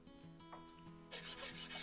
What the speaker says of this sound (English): I used a file just to get a flat spot on top